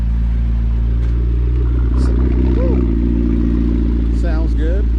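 A 2012 McLaren sports car arrives at a pop-up car meet, its engine holding a steady low drone close by, with a few short revs rising above it.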